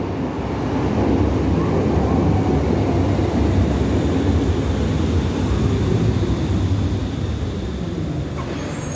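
Berlin U-Bahn A3E subway train riding between Bismarckstraße and Theodor-Heuss-Platz, a steady loud rumble and rolling roar of wheels on track heard from inside the car, continuous throughout without talk.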